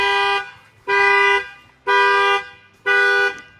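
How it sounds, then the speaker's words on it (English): A 2026 Ram 1500 RHO pickup truck alarm, set off by a glass shock sensor, honks four times in a slow, evenly spaced rhythm, each blast a harsh, buzzy tone close by. "and that will fire off the alarm."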